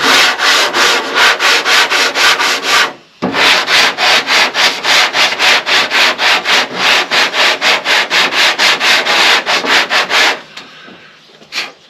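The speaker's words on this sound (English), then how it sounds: "I get my long board out here and basically just start working it down" A long board rubs back and forth over body filler on a 2002 Ford F350 under rust repair, a loud, rhythmic rasp of quick even strokes with one brief pause, then slowing near the end.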